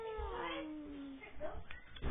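A cat in a dinosaur trading video game gives a drawn-out meow that slides downward, followed by game noises and talk.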